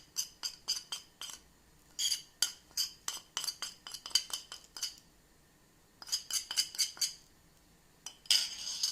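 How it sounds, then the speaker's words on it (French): A metal utensil stirs a liver loaf mixture of olive oil, spices and chopped parsley in a bowl, making rapid rhythmic clinks and scrapes in bursts. It is close and fairly quiet. "je viens mélanger le tout jusqu'à obtenir un mélange homogène"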